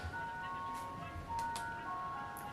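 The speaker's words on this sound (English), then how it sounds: "And now the ice cream truck is coming at" An ice cream truck's jingle in the early evening after a day of rain, a thin melody of pure tones carrying from a distance, faint and steady over low background rumble.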